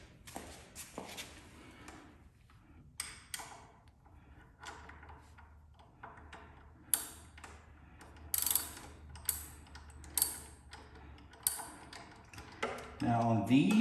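Someone loosens the front wheel bolts on a 2011-2019 Suzuki GSX-R 600/750, giving a series of sharp metallic clicks and ratcheting snaps, some louder than others, spread across a quiet workshop background.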